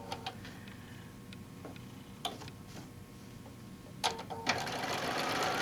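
A sewing machine fitted with a walking foot stitches through fabric for alphabet panel letter blocks, a low steady mechanical whir running under faint ticking, with a few sharper clicks and a louder burst of stitching near the end.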